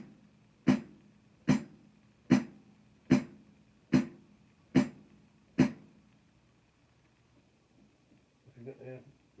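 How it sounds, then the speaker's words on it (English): Seven evenly spaced, crisp metallic chicks of a pedal-closed hi-hat, played alone at a steady pace, followed by a brief faint voice. "This is how it would sound on the hi-hat."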